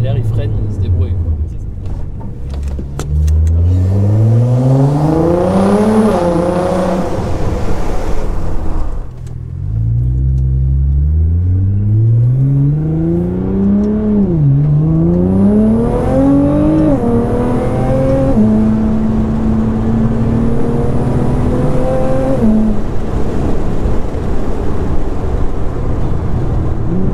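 A Nissan GT-R Stage 3+ tuned to 700 hp accelerates hard, its engine note climbing through several gear changes in loud, close sweeps. Occupants talk over the engine.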